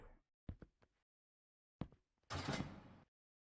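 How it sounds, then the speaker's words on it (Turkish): Prison doors in the Prison Escape Simulator video game clank open: a few sharp metallic knocks, another clunk, then a loud grinding slide lasting under a second before stopping. "kapılar açıyor kapılar açıyor"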